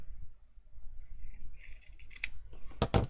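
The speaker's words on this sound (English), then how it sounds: "I'm just going to trim this one in half" Scissors cut through craft material for a sparkly Christmas cottage, with a few quiet snips near the end that build to two sharper, louder cuts in a still room.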